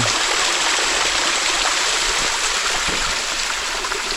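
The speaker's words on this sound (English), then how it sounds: "with the water streaming down." Water streams down into a pretty rocky alcove at Fall Creek along the trail, a steady full rushing wash that holds constant and fairly close throughout, with no voices.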